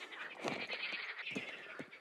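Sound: frogs croaking in the morning

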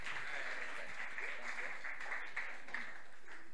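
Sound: weak audience clapping

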